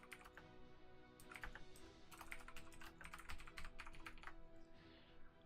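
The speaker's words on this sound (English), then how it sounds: "I'm trying to stretch over to my keyboard to type" Keys clatter in uneven bursts on a computer keyboard as someone stretches across to type awkwardly, a steady low hum beneath the close, moderately loud clicks.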